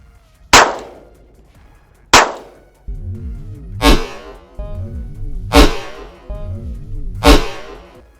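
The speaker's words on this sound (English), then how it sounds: "So let's go, a couple shots, two-handed." Five sharp pistol shots from a handgun fitted with a Strike Industries QUAD Micro Comp, fired two-handed at a range, spaced about one to two seconds apart, loud and close, each trailed by echo and a low rumble.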